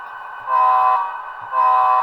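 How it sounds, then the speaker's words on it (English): Horn of a Bachmann GP35 model diesel locomotive with DCC sound, two short, loud, harmonically rich toots in quick succession, sounded alone without talk. "Maybe I'll toot the horn at him"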